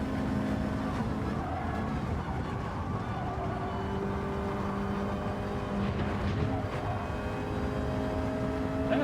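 Race car engine of a Hyundai Elantra in Gran Turismo 7 drones steadily through a lap, with sustained engine tones shifting pitch under faint background talk.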